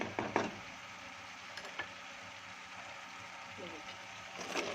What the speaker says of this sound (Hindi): आलूओं को भी भूनना है हमने इस तरीके से